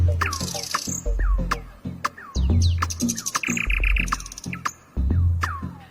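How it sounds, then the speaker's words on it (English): A nightingale sings a rich, varied song of sharp whistles, rapid trills and chirping phrases, close and clear, repeating in quick bursts over six seconds. "just like this nightingale, the bird that sings out in the dark"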